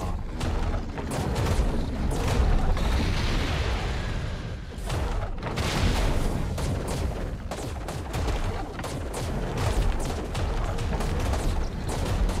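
Rapid bursts of gunfire in the video game ARK: Survival Evolved, Extinction map, fired at creatures while taming the Forest Titan; loud repeated volleys and booms crackle almost without pause throughout.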